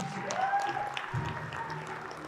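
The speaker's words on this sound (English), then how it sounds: "Let's give a big round of applause for Stephen Jones." Audience applause for a heavyweight fighter at a no-gi grappling event, a steady, moderately loud wash of clapping lasting the whole stretch, with a faint tone and some crowd noise mixed in.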